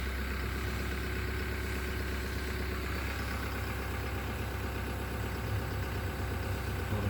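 A Toyota Hilux engine runs steadily in first gear with the 4x4 transfer in four-low, giving a continuous, even mechanical drone at close range with no talking.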